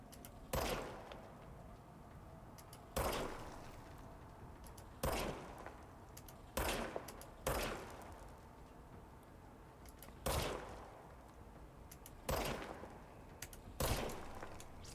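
Gunfire in the video game Control: a series of single loud shots spaced a second or two apart, about eight sharp reports over steady quiet game ambience.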